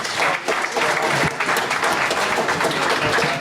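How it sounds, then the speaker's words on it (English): Dense, steady applause from a seated audience at a DEF CON 24 Social Engineering Village live podcast panel, loud and continuous for the whole stretch with no clear talk over it. "Everybody give a hand to Nina and her partner"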